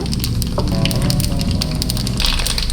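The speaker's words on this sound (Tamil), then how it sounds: "இப்போ இது கடுகும் சீரகமும் பொரிஞ்ச சொல்லு ஸ்மெல் வருது" Mustard seeds and cumin splutter in hot oil as tempering for hotel-style curd rice, a dense, steady crackle and pop that stays close and continuous throughout.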